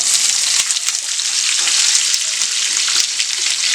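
Thinly sliced onions frying in hot oil in a pan, giving a loud, continuous sizzle with bright crackling bursts throughout, close up and with no talking.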